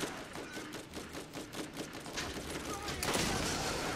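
Rapid, regularly spaced gunfire from a scoped pistol in the video game Borderlands, firing around a dozen quick shots under a dense wash of game noise at modest volume.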